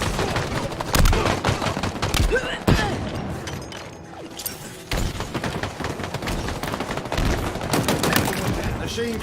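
Loud bursts of machine gun fire in the video game Halo Infinite, rapid volleys and sharp single shots with brief lulls, chaotic battle noise throughout.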